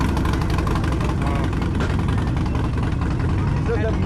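A motorcycle with its factory exhaust idles at a bikes-and-breakfast meetup in Eldersburg, Maryland, a steady, loud rumble running under people talking nearby.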